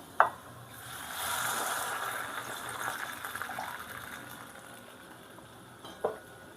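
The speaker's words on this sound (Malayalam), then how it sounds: "വെള്ളവും കൂടി ഒഴിച്ചു കൊടുക്കാം." Water poured into a pan of jackfruit seed curry with masala, a soft continuous splashing pour rising and settling, with brief clinks at the start and end.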